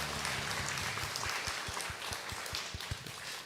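Applause from a church congregation at a Sunday worship service, a steady wash of many hands clapping with deep regular thumps running underneath, continuous and close for the whole stretch.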